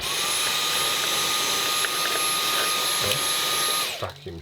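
A loud, steady motorized whine with a high tonal hum from a vacuum cleaner runs continuously, then cuts off abruptly as it burns out, leaving a few quieter clunks.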